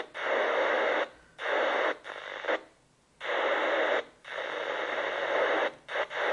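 Open-squelch hiss from an Alinco DR-03 CB/10m radio, loud steady broadband static broken by several short gaps where the noise cuts out, with no voices.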